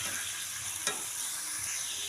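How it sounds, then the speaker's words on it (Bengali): Carrots and beans frying together in a pan give a steady, soft sizzle throughout, with one brief stir or scrape near the middle, quiet and close. "গাজর আর বিনসটা আমি একসঙ্গেই ভেজে নিচ্ছি"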